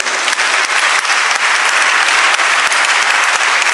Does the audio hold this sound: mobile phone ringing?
no